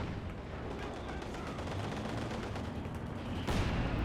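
120mm artillery shells pound down in Company of Heroes 2 during a 4v4 Red Ball Express match, a dense, continuous rumble of overlapping blasts and gunfire that swells louder near the end.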